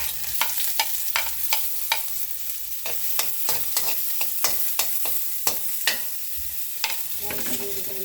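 Garlic and onion frying in cooking oil for carbonara, a continuous hiss of sizzling with frequent quick metallic taps and scrapes of a spatula in the pan, close and steady, no voices.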